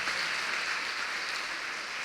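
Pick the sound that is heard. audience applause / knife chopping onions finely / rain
audience applause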